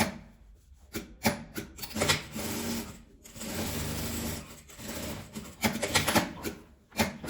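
A sewing machine topstitches fabric with a ruffle on a small zippered pouch, running in short irregular bursts of rapid needle clatter broken by brief pauses, close and clear.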